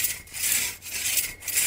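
A two-man crosscut saw works through a tree trunk in steady, even strokes, each pull a close, raspy rush of teeth on wood with a short pause between.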